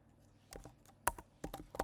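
Typing on a computer keyboard while coding in VS Code: a handful of quiet, close keystrokes in small irregular bursts over near silence.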